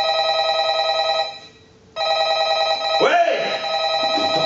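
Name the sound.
telephone ringing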